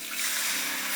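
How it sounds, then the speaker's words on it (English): Water poured over halved, washed cocoyam in a cooking pot, a brief soft splashing trickle lasting about a second, fairly quiet and close, with no talking. "Pour water on it, cover it"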